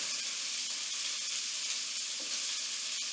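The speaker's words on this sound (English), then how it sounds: "I like to just kind of give them a little sear just inside that pan with the olive oil and the garlic in there" Vegetables sear in a hot pan of olive oil and garlic for a moose stew, giving a steady, close, unbroken sizzle and hiss with no talk over it.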